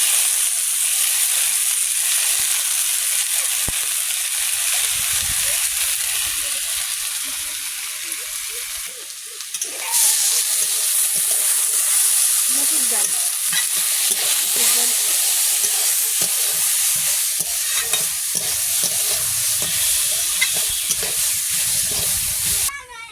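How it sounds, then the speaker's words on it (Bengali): Lentils sizzle in hot oil in a home kitchen with a loud, continuous frying hiss that drops briefly midway and then surges again with stirring, and faint voices come through underneath. "তেল গরম হয়ে গেছে ডালগুলো ভেজে নেবো"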